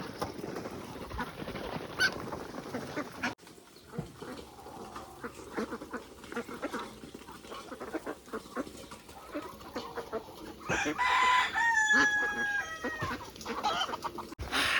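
Ducks feed on paddy grain on a farm, with steady clucking and quacking of poultry around, a rooster crowing once in the background, and scattered pecking sounds, moderately close.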